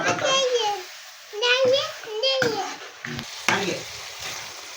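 Chicken curry sizzling and being stirred in a pan, with intermittent scraping under a child's and an adult's voices talking close by.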